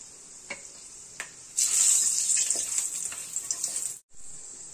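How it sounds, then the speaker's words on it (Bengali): Bay leaves, two dried red chillies and whole peppercorns hit hot oil in a pan where fish was just fried, setting off a loud, bright sizzle that crackles on for a few seconds and then briefly drops out before resuming. "ওই তেলেই এবার ছাড়বো তেজপাতা, 2টো শুকনো লঙ্কা,"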